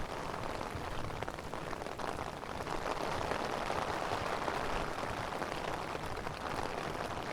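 Heavy rain pours onto a flooded city street at Court Square in Long Island City, New York, a steady dense hiss that stays loud and unbroken throughout with no voices.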